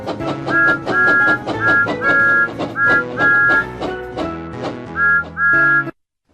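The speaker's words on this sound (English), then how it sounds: "Pull down on the Wii remote to blow the whistle." Repeated short whistle toots from Thomas the Tank Engine in a Wii video game sound over busy, rhythmic background game music, with bright sustained tones recurring in pairs throughout.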